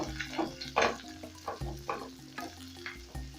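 Ginger sizzles in hot oil in a pan, with irregular bursts of spattering and stirring sounds heard up close, rising and falling in short pulses.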